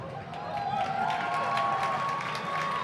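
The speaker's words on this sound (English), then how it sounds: "On your screen right now is the Windhoek Gymnasium cheerleaders helping get the crowd going." A rugby stadium crowd cheers and roars while cheerleaders rouse the stands, a sustained loud wash of voices with scattered claps and a whistle-like tone running through.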